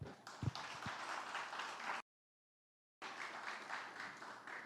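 A church congregation applauding, a dense wash of clapping that cuts to silence for about a second before resuming just as full.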